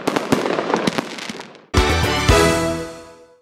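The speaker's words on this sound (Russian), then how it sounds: "Закончились торжества красочным фейерверком." Fireworks closing a town celebration: a quick crackle of small pops and bangs, then two loud booming bursts with long ringing decays, close and powerful.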